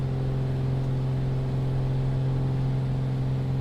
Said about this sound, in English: I'm gonna turn down the engine sound